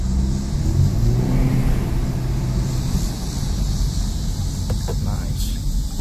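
A 2013 Ford Fusion's engine pulls up through acceleration from inside the car, a loud steady hum and whir with rising rev tones, a turbo blow-off whoosh, and voices talking over it.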